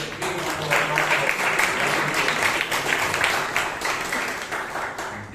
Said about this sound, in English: So please give Mahesh Lokesh a big round of applause.